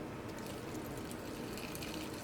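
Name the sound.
water poured in to grind coconut chutney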